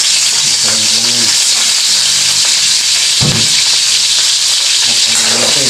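Pieces of meat drop into hot cooking oil for pakbet and sizzle loudly and continuously with a dense hiss close up, and a brief voice speaks under the frying.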